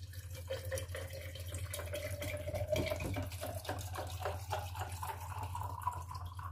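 Water pours steadily into tamarind and plum syrup in a container, a continuous close splashing trickle whose pitch rises slightly as it fills.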